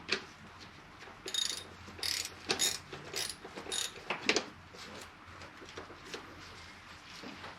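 A socket wrench ratcheting while unbolting a vapor canister purge valve on a GM 3.6 V6, a series of quick, close clicking bursts in an uneven rhythm, fading to a few faint clicks at the end.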